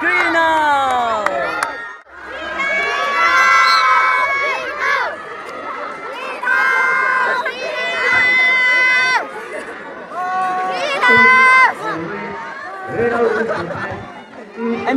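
A school crowd at a football and basketball grand finale cheers and chants for their house team, with excited voices rising and falling in bursts and people talking among them.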